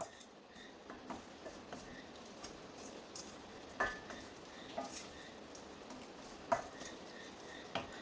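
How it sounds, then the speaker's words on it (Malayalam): Seedless black raisins stirred in a pan for pickle, with faint scraping and light spoon taps against the pan scattered over a low background hiss, quiet and close, no talking. "മുന്തിരിങ്ങ ഇട്ട് കൊടുത്ത് കഴിഞ്ഞ് കഴിഞ്ഞാൽ പിന്നെ നമുക്കൊന്ന് ഇളക്കി കൊടുക്കാം"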